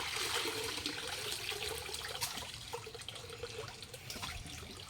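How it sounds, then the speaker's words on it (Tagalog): Water flows into a fish pond in a steady, soft trickle and splash, fairly faint and continuous, with no one talking. "Dito po yung nanggagaling na pumapasok na tubig sa fish pond"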